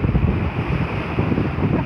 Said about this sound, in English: Small boat past us there produces an absolutely huge wash.